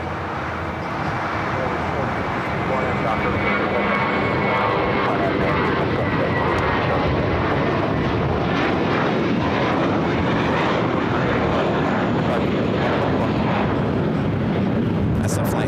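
Jet airliner at LAX bound for JFK, a steady loud broadband roar of engines holding throughout, with people talking underneath.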